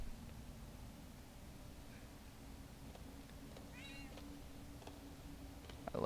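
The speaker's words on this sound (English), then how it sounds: "Such a cute little kitty." A pet cat gives a single short, faint meow midway through, over a low steady hum of background noise.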